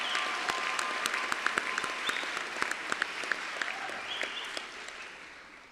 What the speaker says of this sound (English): Let's give a big round of applause to our parents and family members.